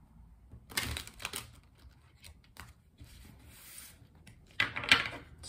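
Tarot cards shuffled by hand, heard as short papery riffles and soft slaps in a quiet room. The bursts come in a few separate clusters with pauses between them.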